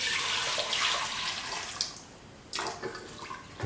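Water pours steadily into a cooking pot of rice in a home kitchen, a continuous close splashing stream with a short break partway before the flow resumes.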